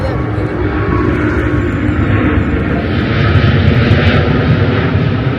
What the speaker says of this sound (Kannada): ಇಡೀ ದಿವಸ ಫ್ಲೈಟ್ ಹೋಗ್ತಾನೆ ಇರುತ್ತೆ